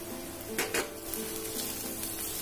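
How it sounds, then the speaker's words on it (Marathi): Spatula stirring turmeric, goda masala and salt in a pan for gavar bhaji, with a low steady sizzle and a couple of brief scraping clinks near the start. "आता व्यवस्थित परतवून घ्यायचं आपल्याला।"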